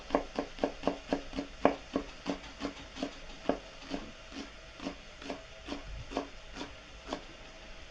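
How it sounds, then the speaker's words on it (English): Food sautés in a pan as shallot is added, a quick steady run of about two dozen light knocks and scrapes, like a utensil working the pan, over a faint sizzle, with no voices. "while it's sauteing, I'm just gonna add a tiny bit of shallot"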